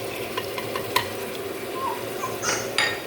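Spices stirred into food sizzling in a frying pan, a constant crackle with light scrapes and taps of a utensil against the metal.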